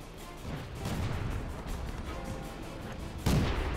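In World of Tanks, a tank cannon fires one sharp, heavy blast near the end, rising out of a steady roar of engine and battle ambience.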